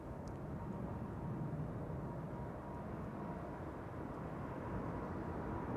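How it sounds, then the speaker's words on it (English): A KLM Boeing 787-10 takes off at Amsterdam Schiphol, heard as a faint, distant, continuous roar and rumble of jet engines. "The KLM 100 years 787-10 to San Francisco is now rotating."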